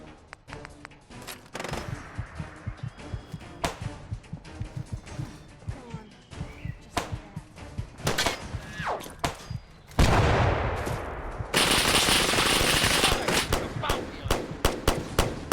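Sustained rapid minigun fire in Fallout 4, a dense stream of close shots that shreds through the area, growing louder and harsher toward the end with sharp impacts scattered throughout.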